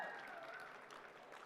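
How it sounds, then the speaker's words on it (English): Audience applause fills the arena at a powwow pageant during the Miss Indian World competition at the Gathering of Nations, a faint, distant wash of clapping that holds steady and slowly thins. "Big round of applause for Taylor Susan."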